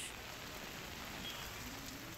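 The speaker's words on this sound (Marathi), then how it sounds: "बदलापूर शहरात गेल्या 1 तासांपासून मुसळधार पाऊस कोसळतोय" Heavy monsoon rain pours over Badlapur as a steady, dense hiss of drops hitting surfaces, continuous and fairly even throughout with no voices.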